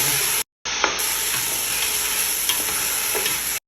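Meat sizzles steadily in a pan while being stirred, a close continuous frying hiss with occasional spoon scrapes, broken by a brief moment of silence near the start.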